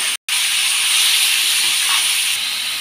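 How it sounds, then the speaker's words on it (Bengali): Tomatoes tipped into hot oil tempered with bay leaf and dried red chilli give a loud, steady, close sizzle that runs on without a break after a short initial gap. "সমস্ত টমেটোগুলো দিয়ে দিচ্ছি।"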